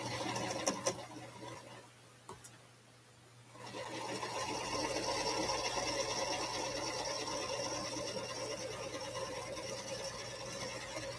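A sewing machine runs steadily through a long quilt seam, with a few quick clicks and a brief pause before the motor's dense, even whir resumes.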